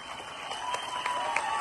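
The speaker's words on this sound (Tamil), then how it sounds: "இப்போ ஒரு லீடர் வரும் பொழுது நீங்க கை தட்டி ஆரவாரம் பண்றீங்க பாத்தீங்களா?" A seminar audience in a Chennai college hall claps and cheers for a leader, a short, fairly faint patter of scattered claps.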